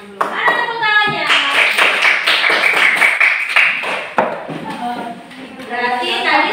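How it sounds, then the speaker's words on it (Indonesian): A school class claps hands together in a classroom, sharp claps in quick runs and patterned bursts, mixed with children's voices and a teacher speaking. "Mana tepuk tangannya?"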